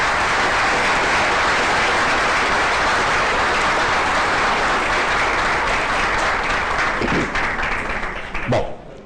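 An audience at a congress on the work of Roustaing breaks into sustained applause, a dense, even roar of clapping that holds steady for several seconds before thinning out into a few scattered final claps.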